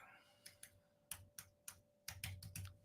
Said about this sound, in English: Can you hear the keyboard?